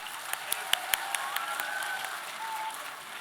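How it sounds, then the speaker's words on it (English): An audience gives a round of applause for Mr. Devnath at a talk with Professor Suborno Isaac Bari, heard as a scattered, fairly faint patter of claps with a few sharper individual claps standing out across the room. "Can we please have a huge round of applause again?"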